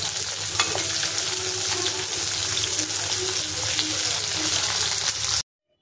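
Shing fish frying in hot oil until lightly browned, a loud continuous sizzle with stirring close by, cutting off abruptly near the end.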